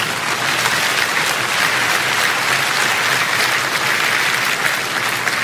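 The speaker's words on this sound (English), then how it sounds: "You can clap." Audience applause at a marriage podcast taping, a dense, loud, steady clapping that fills the whole stretch without voices.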